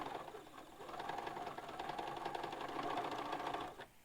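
Sewing machine stitching quilt pieces, a steady fast needle chatter close by that runs evenly for a few seconds and then stops.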